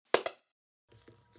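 Simulated hand clap echoing off three steps of the pyramid at Chichén Itzá, heard as a sharp crack with a quick rebound, a pause, then a softer, smeared sequence of faint pulses.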